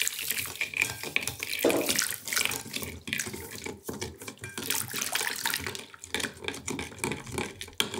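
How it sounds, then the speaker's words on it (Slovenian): Boiling water pours in a continuous rushing, splashing stream over a bowl of puree, steady and close for several seconds with no voices. "Sada prelivamo pire sa vrelom vodom"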